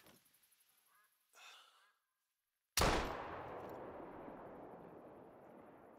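A single loud hunting-rifle shot cracks out in the video game Call of the Wild after a quiet pause, followed by a long, fading rumble of echo across open terrain.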